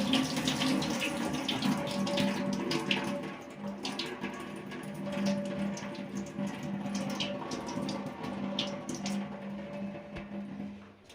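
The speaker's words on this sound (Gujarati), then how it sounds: "સારી રીતે બે ત્રણ વાર પાણીમાં ધોવાના" Water running and splashing steadily as rice and lentils are swished and rinsed in a bowl, a continuous wet rushing with small clinks throughout.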